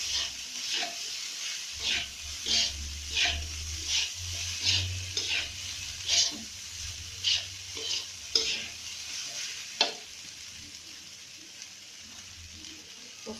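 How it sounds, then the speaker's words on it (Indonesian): Nasi goreng with boiled green beans is stirred in a frying pan, the spatula scraping in a steady rhythm of strokes over a soft, constant sizzle, close and fairly quiet. "Kita aduk."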